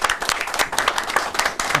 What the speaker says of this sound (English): They can applaud.